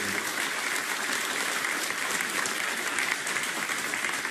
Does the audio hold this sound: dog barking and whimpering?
no